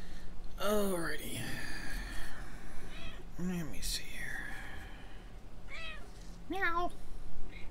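A domestic cat meows several times in short, rising-and-falling calls, spaced out over a quiet background, while a person speaks softly between the cries.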